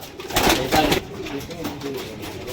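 A Kalshira teddy pigeon hen at a loft in Krishnanagar gives a couple of low, soft coos close by early on, followed by quieter murmuring as a voice speaks faintly in the background.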